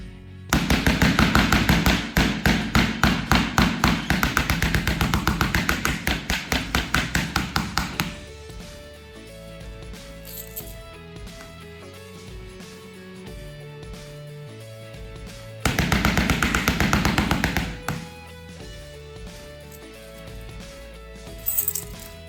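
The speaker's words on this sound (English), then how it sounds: "let's start our scratch test with set of keys first" A set of keys scrapes hard across an Honor X9a 5G smartphone, giving rapid metallic rasping and tapping in two bursts, a long one then a shorter one, with quieter gaps between.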